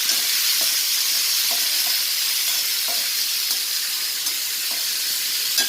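Dried turkey berries fry in sesame oil, a soft steady hiss with faint scattered crackles, close and unbroken with no voices.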